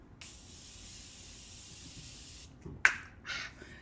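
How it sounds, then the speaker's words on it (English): Morphe Continuous Prep and Set Mist sprayed as a makeup setting mist: a long close airy hiss for about two seconds, then a short sharp burst and a brief final puff, all in a quiet room. "This is the Continuous Prep and Set Mist."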